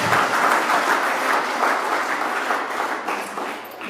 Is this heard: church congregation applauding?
yes